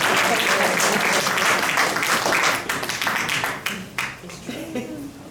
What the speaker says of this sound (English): Give yourself a round of applause for just being home.